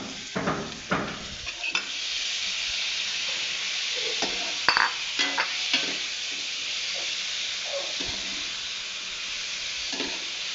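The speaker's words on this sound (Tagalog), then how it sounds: "gisa na natin ating bayabas" Guava sautéed with shrimp in a pan, a steady close sizzle broken by repeated scraping and clacking stirs from a spatula, no talk.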